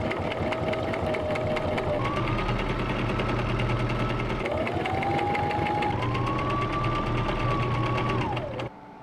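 A sewing machine top stitches the edges of a canvas tote bag, running in a steady, continuous mechanical whir with rapid needle chatter and a slight rise and fall in speed before it stops near the end.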